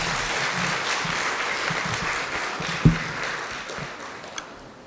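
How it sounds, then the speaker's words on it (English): An audience claps steadily throughout, a dense wash of hands at a community anniversary celebration, with a single sharp knock partway through and a brief ping near the end. "So can we just clap it up for that, please?"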